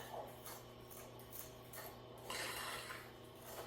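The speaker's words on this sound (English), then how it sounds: "I'm just going to use my fork, and I'm just going to stir it until it comes together" A fork stirs lumpy blueberry muffin batter in a bowl, giving soft, repeated clinks and scrapes against the bowl, quiet and steady over a faint hum.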